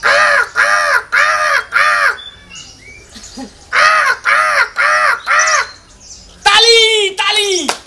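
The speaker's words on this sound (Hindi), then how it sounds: "तो कौवा बोलने लगता है।" Loud, near crow caws in two runs of four harsh, evenly spaced calls, followed by a different rising, wavering call at the end.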